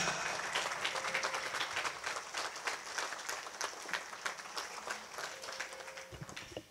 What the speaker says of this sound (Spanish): Que se vengan las palmas para Alcides Mendoza.